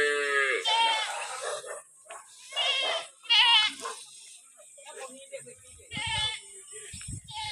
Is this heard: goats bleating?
yes